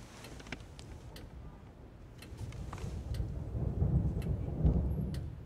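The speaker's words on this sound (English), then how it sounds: "Here's a storm." A thunderstorm rumbles low and grows gradually louder, a deep rolling thunder building toward the end under a steady wash of noise, with faint ticking clicks scattered throughout.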